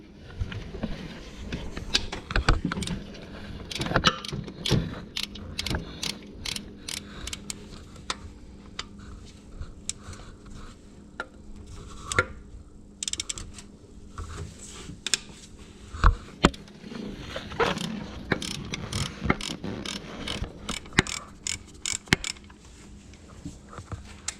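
Ratchet backing out a 10mm tensioner bolt on a 2004 Ford Escape 3.0 engine, a long run of rapid, uneven ticks and clicks heard close up with no talking.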